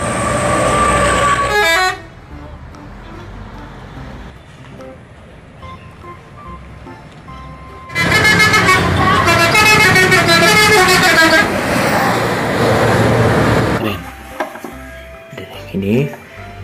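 Buses honk their horns in short loud bursts: a blast at the start, then a long stretch of repeated, melodic horn tones, with quieter traffic noise between and a few sharp toots near the end.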